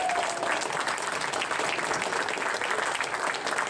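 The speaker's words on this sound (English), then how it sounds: "let's give a round of applause for Jason and his family." An arcade expo audience gives a steady round of applause for a man and his family, full and continuous clapping from a crowd at moderate distance.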